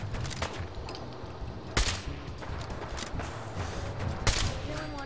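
Gunfire in the game Fallout 4: a dense, continuous rattle of shots with two sharper, louder blasts standing out, all close and loud.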